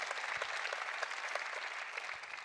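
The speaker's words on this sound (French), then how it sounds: "Vous pouvez les applaudir, effectivement." A crowd at a Saône-et-Loire awards event applauds, producing a faint, distant but steady patter of many hands clapping throughout.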